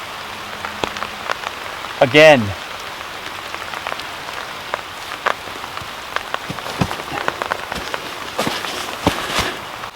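Rain patters steadily on a small woodland shelter built by children, a continuous light drumming with scattered louder drops, while a brief voice and a high rising whistle-like sound cut in near the start.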